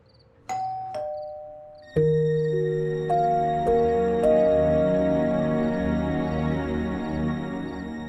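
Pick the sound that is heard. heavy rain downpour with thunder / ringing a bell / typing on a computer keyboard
ringing a bell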